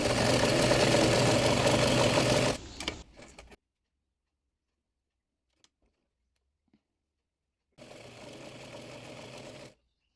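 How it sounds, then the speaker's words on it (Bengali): A sewing machine runs piping onto frock fabric in two loud, close bursts of fast whirring stitching separated by several seconds of silence with faint clicks. "ডিজাইনের জন্য কাপড়টিতে পাইপিন সেলাই করে নেব"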